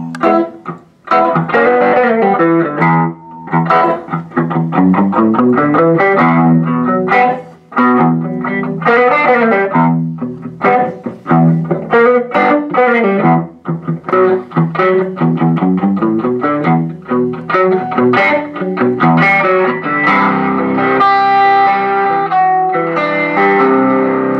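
A heavily distorted electric guitar through a Fender Pugilist distortion pedal plays a continuous run of chords and single notes, loud and up close, with no talking.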